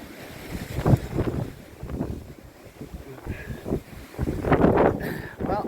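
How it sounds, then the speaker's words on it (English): Strong gusts batter the microphone on a New Zealand hillside, rumbling and surging unevenly in heavy blasts, with a brief faint voice under the wind. "I certainly didn't plan on the wind being this fierce"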